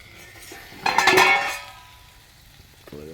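Sliced bitter gourd (karela) fries in a pan while a utensil stirs it, producing a short, loud burst of scraping and clinking near the mic that fades back to a quiet sizzle with a few light taps.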